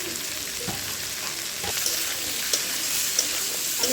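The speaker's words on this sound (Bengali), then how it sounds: "ঢাকা দিয়ে ভালো করে ভেজে নিচ্ছি আলু করলা পেঁয়াজ।" Potato, bitter gourd and onion fry in a covered pan, giving a steady close hiss of sizzling oil. Faint occasional pops and light stirring knocks sit on top of it.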